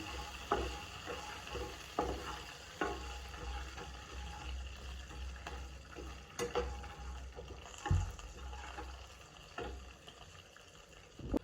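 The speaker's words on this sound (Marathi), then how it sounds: "थोडंसं शेंगदाणे घालून घेऊया हळू कसं भाजून घ्यायचं आहे आपल्याला" Peanuts roast slowly in a pan, giving a soft, continuous dry sizzle broken by periodic scraping and tapping as they are stirred, close and fairly quiet, with no voices.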